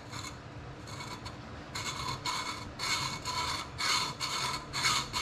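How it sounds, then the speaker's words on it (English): A hacksaw cuts pipe for a DIY intake on a Mazda Miata, a rhythmic rasping back-and-forth of about nine steady strokes, close and alone. "You ready to run the hacksaw here?"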